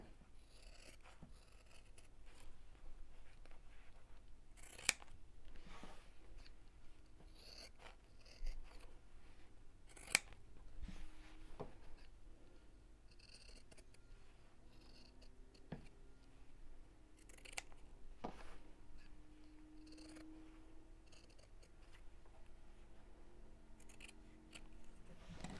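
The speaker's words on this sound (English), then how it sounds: "And then let's cut out these shapes." Scissors snip out fabric shapes for a quilted gift bag, giving quiet, close, irregular cuts and a few sharper clips against a faint background.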